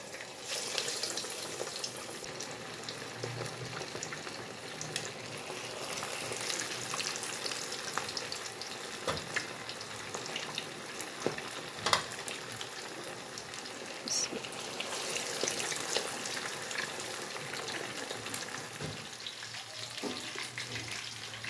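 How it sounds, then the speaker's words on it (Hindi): Masala-coated fish pieces frying in hot oil, a dense continuous sizzle and crackle held for a long stretch, with scattered sharp pops and spatters over a low background hum. "तेल गर्म हो गया। एक बोटी शामिल करते हैं, इसमें डालते हैं।"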